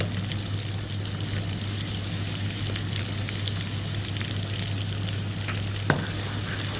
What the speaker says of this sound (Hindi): पहले प्याज को आपने अच्छा सा फ्राई करना है।